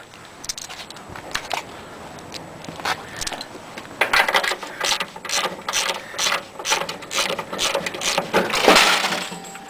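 A ratchet clicks steadily in fast bursts as bolts on an Ariens Sno Thro 6hp snowblower are loosened, with metallic mechanical rattling close by and no talk.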